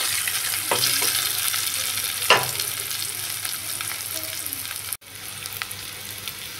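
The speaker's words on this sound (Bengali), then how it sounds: "একটু হালকাভাবে ভেজে নিচ্ছি।" Potatoes already partly cooked in a pressure cooker fry lightly in a pan, giving a continuous close sizzle broken by a few stirring scrapes and a brief clatter, with no talking.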